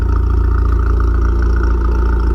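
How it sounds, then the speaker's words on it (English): A 2016 Ford Focus RS idles close by with a steady, even low rumble and a faint rhythmic pulse, continuous and loud with no revving and no voices. "I'm letting the car idle just so you guys can see it doesn't smoke or doesn't make any crazy sounds"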